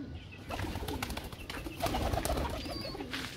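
Pigeons cooing in a home coop, a soft, continuous low murmur of coos heard steadily throughout, close by, with no talk over it.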